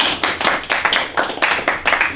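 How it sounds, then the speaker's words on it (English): A small group claps for a couple of seconds, uneven and fairly close, a brief burst of applause. "give him a round of applause"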